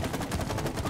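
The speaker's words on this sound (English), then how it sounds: "Oh, and then I have to shoot it." Rapid gunfire bursts from the co-op video game It Takes Two, a dense, loud rattling stream of shots with no talking.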